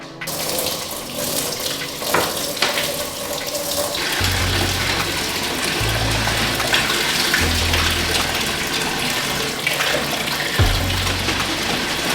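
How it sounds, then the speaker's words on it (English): Steady running hot water pours into a bathtub, a continuous splashing rush with a low rumble that surges in stretches, with no voices. "run a bathtub with some hot water and a significant amount of soap"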